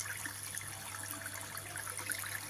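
Water runs steadily from a half-inch motor pipe in a rainwater harvesting system, a faint continuous trickle with a low steady hum underneath.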